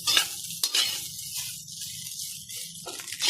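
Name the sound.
stir-frying rice in a pan for a rice bowl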